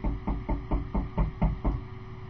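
Knuckles rap on the front door of a house in a Lehigh Acres neighborhood: about eight firm, evenly spaced knocks in a steady rhythm, close and clear, with no voices.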